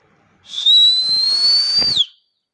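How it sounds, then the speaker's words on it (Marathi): A single loud, sustained whistle from one person at night, a steady high shrill tone lasting about a second and a half before cutting off, close and alone. "आईने शिट्टी मारायला परमिशन दिली"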